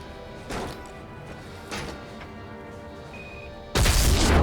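A couple of dull crashing bursts, then a sudden loud explosive blast near the end in Call of Duty: Modern Warfare 3.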